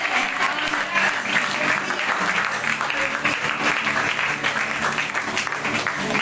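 A church congregation at a Sunday worship service claps for the Lord, dense continuous applause filling the room for several seconds with faint voices mixed in.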